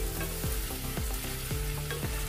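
Shrimp in sweet and sour sauce is stirred in a pan, giving a steady sizzle with soft scraping strokes, while music plays underneath throughout.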